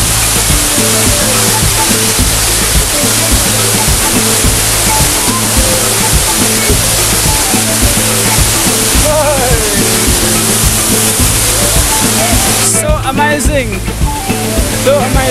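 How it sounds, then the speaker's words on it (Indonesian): Continuous rushing of river water flowing along a forest path toward Tiu Gransing waterfall, a loud steady wash with a low rumble, voices briefly audible near the end. "Inilah sungai-sungai yang kita lewati tengah perjalanan."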